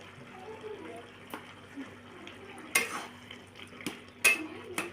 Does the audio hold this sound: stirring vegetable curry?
yes